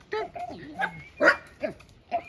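A young dog on an off-grid homestead in Portugal gives a run of short yips and barks with whimpering tones, close and fairly loud, in brief bursts.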